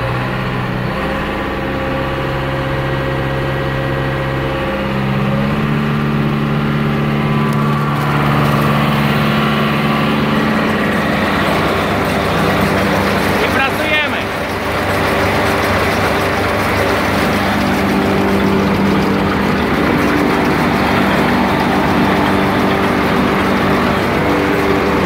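A tractor engine runs steadily with a Claas Variant 280 baler, loud and close, a continuous mechanical drone that shifts pitch partway through as the machinery engages.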